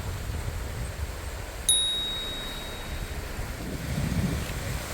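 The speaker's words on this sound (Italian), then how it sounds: "C'è molto vento." Strong wind blowing by the sea on an overcast day on the Spanish coast, a steady gusty rush. Surf rumbles low underneath, and a single bright ding sounds partway through.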